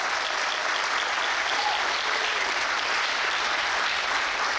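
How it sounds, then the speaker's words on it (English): An audience at an outdoor community celebration claps steadily in dense, sustained applause, with no break in the clapping throughout. "How about a big round of applause for all of our sponsors?"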